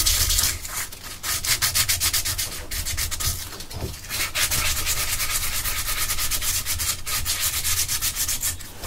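Steady scratchy rubbing of sandpaper on a surface during light sanding, continuous back-and-forth strokes at close range with brief pauses, no voices.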